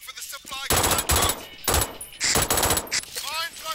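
Rapid automatic gunfire in the video game Brink, bursts of shots poured into dead bodies, loud and dense, with short gaps between the volleys.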